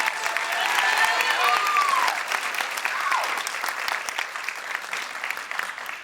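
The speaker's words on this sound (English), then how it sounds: "please, let's give them one more round of applause before the judges make their final conclusion" A school pageant audience applauds for several seconds, a steady wash of clapping that slowly fades, with a few whoops rising over it.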